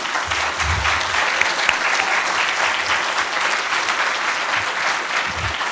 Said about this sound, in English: So I'd just like to have a big round of applause for the people.